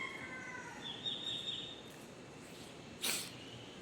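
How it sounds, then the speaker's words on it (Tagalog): Birds whistling in the morning among garden plants, with faint thin high calls at a distance over a soft outdoor hiss and a brief louder rustle near the end. "Sipol na yung mga ibon."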